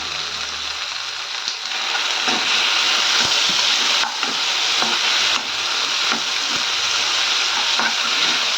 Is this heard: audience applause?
no